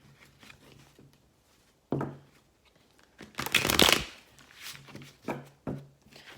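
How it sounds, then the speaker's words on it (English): Large tarot cards being shuffled by hand, several separate riffles and rustling bursts, close and fairly quiet, with short pauses between them and a louder flurry in the middle. "Just trying to see if I can shuffle these ones really good this time."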